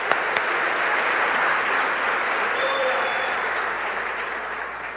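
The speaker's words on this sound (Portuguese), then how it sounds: "Quando que tu vai aplaudir?" A church congregation at a communion service bursts into dense, sustained applause, a loud, even roar of many hands clapping that holds steady for several seconds.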